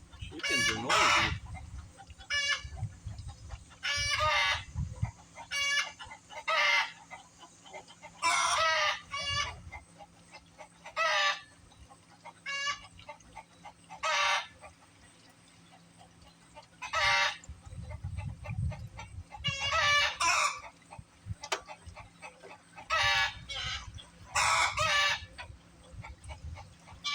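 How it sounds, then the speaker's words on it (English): Chickens cluck and a rooster crows repeatedly in loud bursts, close by, with quieter gaps between the outbursts and a low hum underneath. "Chickens are noisy."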